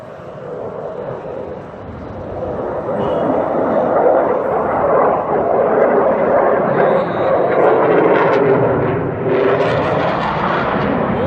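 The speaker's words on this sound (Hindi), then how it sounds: "त्यारा आसमान से उड़ान के दौरान गिरते हुए दिखाई दिया जा सकता है" A Pakistan Air Force F-16 jet roars overhead as a loud, steady broadband rumble that swells and holds for several seconds with no speech over it.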